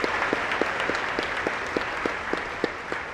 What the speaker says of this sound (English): So once again, a nice round of applause out to Hannah